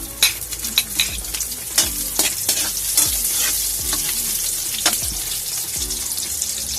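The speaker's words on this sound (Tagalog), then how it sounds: "pag mainit na po ang ating mantika, unahin po natin yung ating sibuyas" Onions sautéing in hot oil in a pan for sinigang na lapu-lapu sa miso, a loud continuous sizzle with repeated spatula scrapes and taps at an uneven rhythm, close by and without speech.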